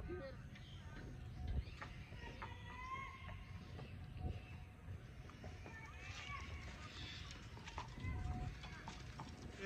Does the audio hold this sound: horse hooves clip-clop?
yes